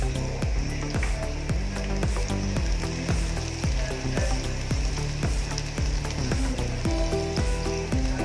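Dried, shell-free shrimp (hibi) sizzle and fry steadily in a pan, with a dense hiss punctuated by regular stirring scrapes roughly every half second.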